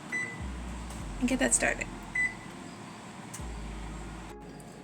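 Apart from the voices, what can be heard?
oven beeping as it is set to preheat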